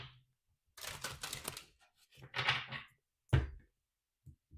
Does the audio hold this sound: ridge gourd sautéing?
no